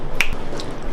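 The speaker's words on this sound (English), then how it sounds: "I wonder if I like snap my fingers, like they'll all be peeled" A single sharp finger snap in a home kitchen during meal prep, crisp and close, standing alone against quiet room tone.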